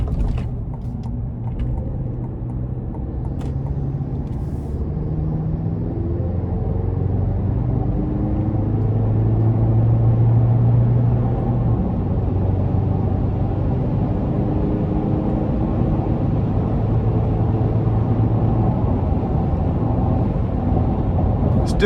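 A 2024 GMC Canyon AT4X with the 2.7 turbo engine accelerating onto an interstate at moderate throttle, heard from the cabin as a continuous low engine and road rumble that slowly rises in pitch and volume over about twenty seconds.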